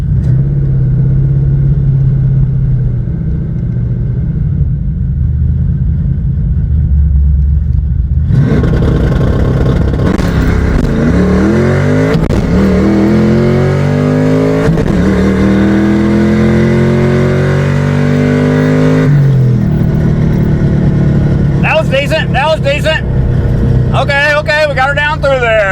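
Drag bike Ruby idles roughly, then accelerates hard through all its gears, each rising engine sweep broken by a shift, before dropping back and revving in short bursts; loud and close, with talking over parts.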